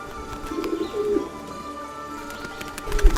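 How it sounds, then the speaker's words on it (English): A flock of pigeons feeding on scattered grains coos in soft, repeated low calls, near and fairly clear over a light outdoor background. "Another seagull was trying to blend in with a flock of pigeons that were feeding peacefully on some grains."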